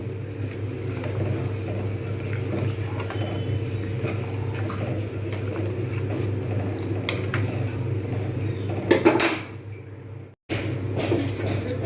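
Khejur gur payesh, milk pudding sweetened with date palm jaggery, stirred in a pot on the stove: repeated scraping and clinking of a spoon against metal over a steady background hum, with a brief pause near the end.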